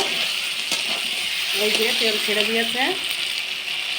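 Chicken sizzles as it fries in oil with a little sugar added, with a steady loud frying hiss throughout and a brief stirring rattle near the middle.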